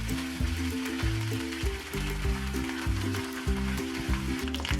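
Two dried red chillies and curry leaves sizzling in hot coconut oil for a papaya curry tempering, a steady crackling fry close up with occasional stirring and soft pops, no talk.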